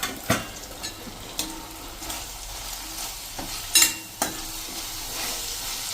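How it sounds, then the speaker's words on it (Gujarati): Kashmiri red chilli and coriander-cumin powder cook in oil in a pan, a soft continuous sizzle punctuated by irregular spoon scrapes and knocks, close by with no voices. "1 જ મિનિટ આપણે તેલ સાથે જ આ મસાલા કૂક કરી લેશું"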